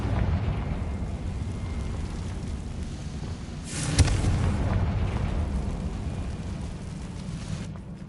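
A Confringo blasting spell goes off in Hogwarts Legacy: one sharp explosive burst midway through, standing out against a low, steady rumbling background.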